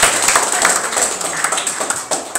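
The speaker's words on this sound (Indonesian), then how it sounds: "Beri tepukan paling gemuruh untuk Tuhan kita Yesus" A church congregation at a Christmas service applauds together, producing a steady, dense patter of many hands clapping throughout, fairly close and bright, with no speech on top.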